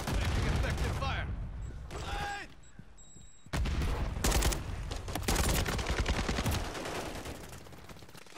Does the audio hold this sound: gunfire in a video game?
yes